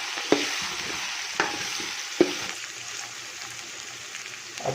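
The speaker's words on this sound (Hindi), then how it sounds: "इसको अच्छी तरह इसमें मिक्स करके भून लेते हैं।" Garlic and ginger paste stir-fried in a pan for aloo matar pulao, giving a steady soft sizzle broken by three sharp spoon scrapes and taps, close and moderately quiet, with no one speaking.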